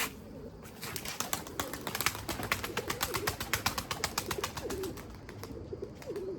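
A pigeon coming in to land, rapid rhythmic wing flaps close by, with soft cooing from a limoni breeding bird mixed in and a faint voice underneath.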